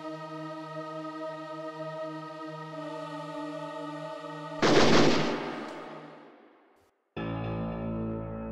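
A homemade big-bore weapon fires a single loud, close blast that booms and decays over a couple of seconds, set against steady tonal music before and after.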